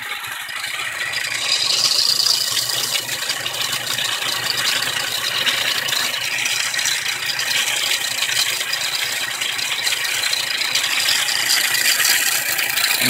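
A LEGO arrow cresting jig runs at full speed, giving a steady, close, continuous rattling whir of plastic gears and motor that holds an even loudness throughout, with no voices.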